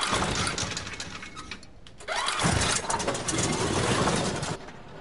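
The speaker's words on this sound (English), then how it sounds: "We got a generator!" A generator in the horror game Until Dawn starts up and runs with a steady, loud mechanical drone that holds for most of the few seconds, with a brief dip near the middle.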